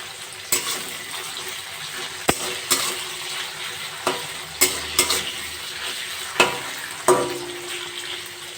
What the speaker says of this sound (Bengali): এবার এই তেলের মধ্যেই কাটা ক্যাপসিকামগুলো দিয়ে দেবো